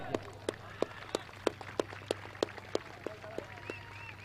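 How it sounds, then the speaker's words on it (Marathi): Spectators at a local tennis-ball cricket tournament applaud a bowling spell with about a dozen evenly spaced, distinct claps. The claps sound thin and distant against faint outdoor background noise. "हा आहे टाळ्यांचा आवाज,"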